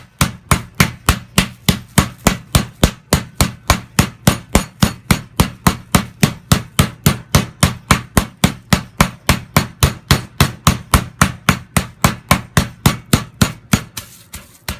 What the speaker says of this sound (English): I'm just going to bash it, which will, in effect, tenderize it anyway.